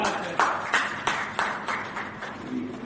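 A small audience at a monthly Hindi poetry gathering clapping in unison, about eight distinct, evenly spaced loud claps in a steady rhythm, close and clear.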